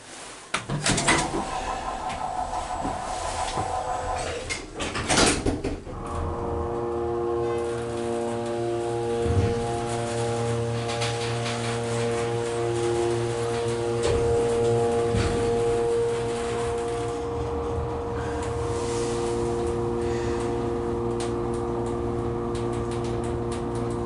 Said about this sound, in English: That pump doesn't sound too healthy.